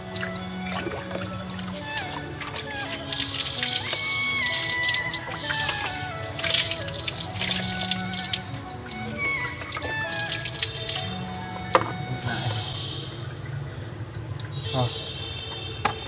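Water splashes and drips over a basin as hair is washed with a giant bottle of Pepsi soda, and a voice talks now and then over the continuous running and trickling.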